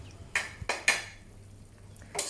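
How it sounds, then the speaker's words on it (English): Soup of Chinese cabbage and meatballs is scooped into a bowl with a few clinking ladle and dish knocks and a soft liquid pour between them, close and fairly quiet. "Scoop the soup into a soup bowl"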